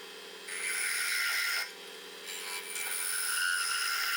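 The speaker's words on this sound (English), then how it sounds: "Now a lathe on which I turn the stick." A wooden stick spins on a lathe while being turned, producing a steady, loud, scraping whir that starts abruptly, dips briefly mid-way, then continues close up and alone.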